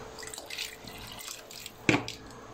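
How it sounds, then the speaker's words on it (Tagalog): Water splashes into a pot of lugaw (Filipino rice porridge) already holding chicken broth, a short watery pour with a brief louder splash near the end over faint kitchen background. "lagyan natin ng konting tubig."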